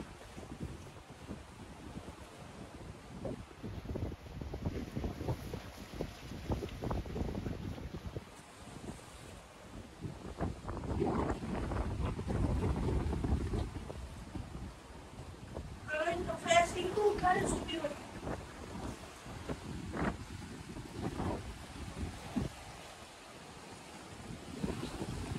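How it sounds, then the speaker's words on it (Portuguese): Strong gusty wind on Praia das Bruxas beach in Florianópolis roars and buffets the microphone for the whole stretch, mixed with the wash of surf, swelling loudest midway, with brief voices heard through it. "O vento não tá dando trégua"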